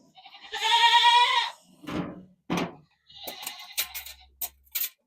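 Nigerian dwarf bottle baby goat bleating close by, one long wavering cry followed by several shorter bleats and a few brief clicks and knocks, with quiet gaps between.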